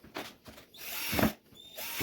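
A power drill whirring in short bursts as it bores into a red wiggler worm bin tank, close and moderately loud, with brief pauses between runs.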